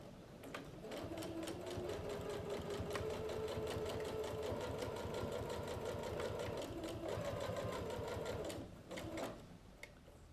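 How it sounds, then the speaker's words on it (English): A sewing machine with a quarter-inch foot runs steadily, stitching binding onto a quilt with a fast even mechanical rattle for about eight seconds before slowing and stopping, heard close and fairly quiet with no talking. "I'm going to sew to just within 1/4 inch of the bottom."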